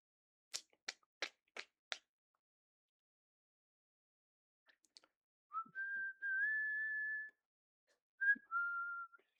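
A person whistles a short tune nearby: several quick sharp chirps at first, then after a pause a long steady sliding note and a shorter closing phrase, clear against a quiet room.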